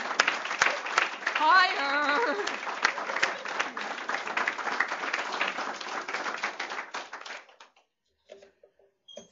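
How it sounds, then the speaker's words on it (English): Audience applause for the staff and board of a legal services program, brisk clapping that starts at once and thins out after about seven seconds, with a voice briefly calling out over it before a few faint sounds in near silence. "You deserve a round of applause for your awesome work."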